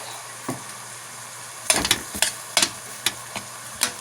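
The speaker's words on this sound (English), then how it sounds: "I'm going to put a little more of that in when I'm frying up this hamburger." Ground beef sizzling with onions and garlic in a hot pan, with a steady crackling hiss broken by sharp scraping and stirring clicks at irregular intervals, close and fairly loud, no talking.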